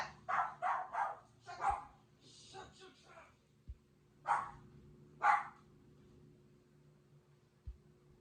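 A dog let outside barks in short, moderately loud bursts, a few quick barks in a row and then scattered single barks, with a person's voice nearby.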